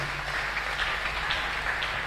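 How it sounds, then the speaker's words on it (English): A church congregation claps together in a loud, continuous wash of hands, steady and close, with a low hum running underneath. "Clap for this God"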